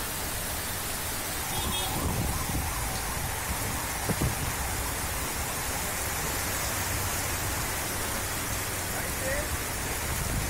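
A heavy rain downpour in Hyderabad, a dense, steady hiss of rainfall hitting surfaces, continuous and fairly loud, with a faint low rumble and a brief knock partway through.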